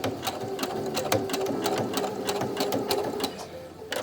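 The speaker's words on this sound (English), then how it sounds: "you're going to pull on your fabric as you sew" A sewing machine runs on a zigzag setting, stitching fabric for a face mask close to the edge, a close rapid mechanical whirring with sharp clicks and brief pauses, and no one speaking.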